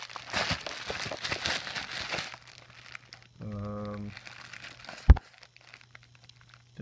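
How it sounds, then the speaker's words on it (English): A plastic bag is ripped open with a close rustling, crinkling tear lasting about two seconds, then quieter handling, a brief hum, a sharp click and faint movement. "Rip open this bag."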